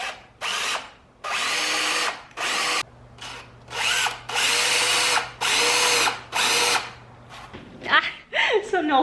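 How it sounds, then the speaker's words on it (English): A power drill bores pilot holes in cedar boards for a raised garden bed, with about eight loud, close whirring bursts separated by short pauses. "gonna get started on drilling those Craig pilot holes"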